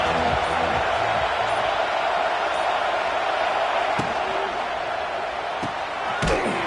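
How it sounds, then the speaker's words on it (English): Crowd noise fills a stadium during a college football game, a broad steady roar from many fans with a few sharp thumps and bangs cutting through near the end. "This crowd ready to make its presence known."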